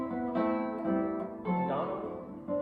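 Plucked guitar melody in an early-nineteenth-century style, its line ornamented by swapping hexachord notes such as sol and fa; sustained harmonic tones ring steadily with new notes entering every half second or so, played alone and close.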